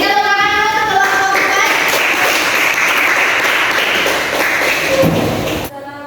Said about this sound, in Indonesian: Berikan tepuk tangan dulu untuk kelompok